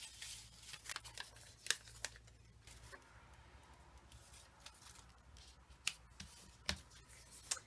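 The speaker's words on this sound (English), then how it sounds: "I'm just using my scissors. I'm trimming maybe 1/8 of an inch off" Small scissors snipping a thin strip of paper, about an eighth of an inch, off a scrapbook layout page: a series of quiet, crisp snips and clicks spaced irregularly, close up and soft.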